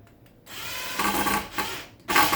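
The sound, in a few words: drill driving screws into DIY floating nightstand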